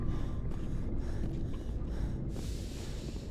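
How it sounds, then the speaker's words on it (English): A female character in the Mass Effect video game pants and breathes hard after running, with rhythmic, closely spaced breaths over steady game background noise and a louder burst near the end. "Is she panting?"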